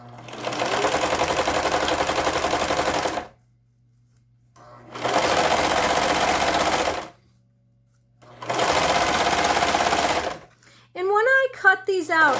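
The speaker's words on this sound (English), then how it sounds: "I serge it and don't cut really anything off, because the serger does the overlock stitch" A serger runs in three steady bursts of about three seconds each, overlock-stitching the seams of a reusable fabric grocery bag, with short pauses between runs and a voice speaking briefly at the end.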